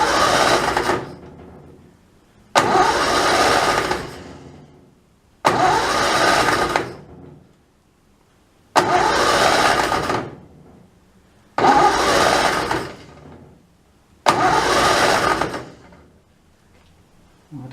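An Austin 7 special engine cranks on its first start attempt, in six separate loud bursts of starter churning, each about a second or two long with short silent gaps between them, and it never catches and runs.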